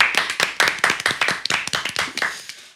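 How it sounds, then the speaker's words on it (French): Audience clapping for a guest at a Guinean entertainment TV show, a quick run of sharp, close, individual claps in a brisk irregular rhythm that fades at the end. "Aya Wilson, s'il vous plaît, applaudissez pour elle."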